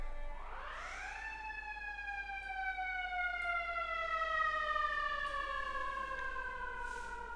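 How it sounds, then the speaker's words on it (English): A fire siren winds up and then holds a long, slowly falling wail, steady and moderately distant, with no voices over it. "It's literally a fire siren."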